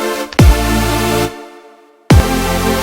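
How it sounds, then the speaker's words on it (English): A layered super saw synth patch built in Massive plays two loud sustained chords, each starting with a sharp attack and a sweeping low drop, separated by a brief silence. "this super saw that we're gonna make today, the patch just sounds like this"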